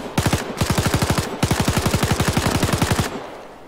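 Automatic gunfire in Arma 3, set in a 1944 German paratrooper scenario, fires in long, fast, evenly paced bursts. It is loud and close, with a brief gap between bursts before a final stop.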